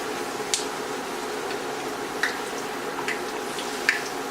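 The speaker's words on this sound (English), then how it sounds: "we let all the oil drain, and we put it over here." Hot oil drips from a freshly fried tortilla back into the pan, four soft, separate drips spaced about a second apart over a steady low sizzling hiss.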